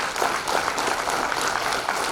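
A ceremony audience applauds, dense sustained clapping from many hands at steady loudness throughout.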